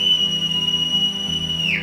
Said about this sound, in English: There's the whistling.